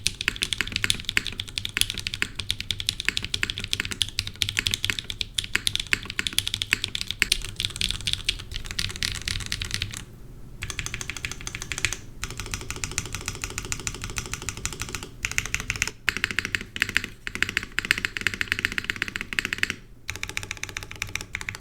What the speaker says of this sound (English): I don't think this keyboard really wows you in terms of sound. Now, it definitely doesn't sound bad by any means.